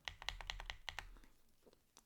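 Clicky keystrokes on a YINDIAO Y95 mechanical keyboard, about eight sharp, close presses in a quick irregular run, then fading to a few faint taps.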